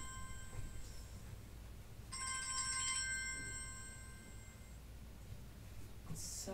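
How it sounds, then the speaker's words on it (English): A phone ringtone from an incoming call sounds indoors as a steady, fairly loud electronic tone over a quiet room hum, swelling briefly midway before cutting off. "And I'm sorry, there's a phone call."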